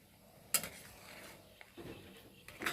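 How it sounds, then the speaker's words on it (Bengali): Quiet scraping and clinking as prawn malai curry is stirred in a pan, a few soft utensil strokes against the metal with light sizzling in between. "দিয়ে আর একটু এখন নেড়ে দেবে।"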